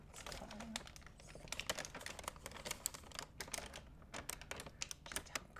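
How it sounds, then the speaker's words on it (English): A sturdy, crinkly art supply bag is handled up close, giving soft, rapid bursts of crackling and rustling that come in irregular clusters without speech. "Just how crinkly this bag is."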